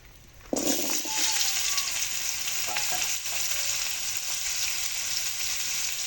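Moringa drumsticks and potato pieces drop into hot oil after a brief quiet moment, then a loud, steady sizzle and crackle of frying carries on to the end, close up.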